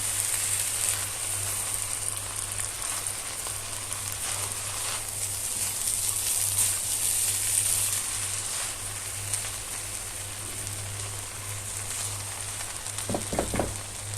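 Food sautés in a pan while a potato and chicken tray dish is cooked, giving a steady, even sizzle over a low hum, with a few small clicks and clatters near the end.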